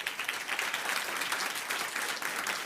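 A packed Gaston County Schools board meeting crowd cheers and applauds in a steady, dense roar that holds throughout without letup.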